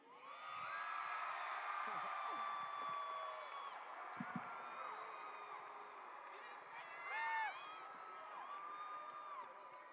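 A high school graduation crowd for the class of 2025 in a large hall cheers, whoops and shouts, a sustained distant roar with high yells and scattered applause throughout.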